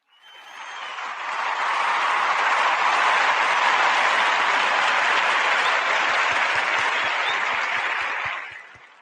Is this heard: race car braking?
no